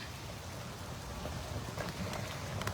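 Rain from Tropical Storm Elsa falls steadily at a big cat rescue, a soft continuous patter of drops on surfaces with faint irregular pings, heard alone and fairly quiet.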